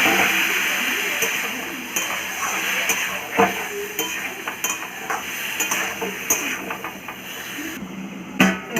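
Spices tempered with panch phoron sizzle in a pan for a Bengali fish curry, with steady frying hiss and repeated scraping and clinking of a spoon against the pan, a few sharper knocks near the end.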